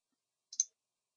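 A computer mouse on a PC giving a quick double click, sharp and faint, close, in otherwise near silence.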